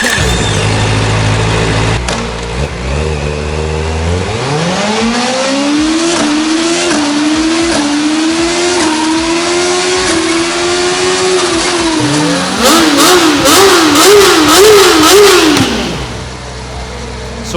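A loud Kawasaki ZX-4RR motorcycle engine revs up and holds a high whine, drops, then revs again with rapid rising and falling bursts, close and continuous, with a bassy tone.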